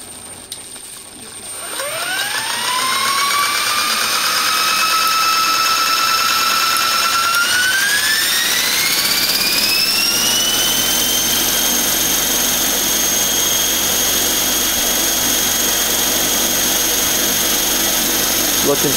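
E-flite Blade 400 flybarless RC helicopter spooling up: a rising whine climbs steadily, then steps higher and settles into a loud, sustained high-pitched rotor and motor drone, close and continuous.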